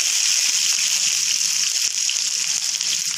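Chopped onions hit hot oil in a kadai and fry with a steady, close, dense sizzle that hisses on unbroken for the whole stretch, with no voices over it.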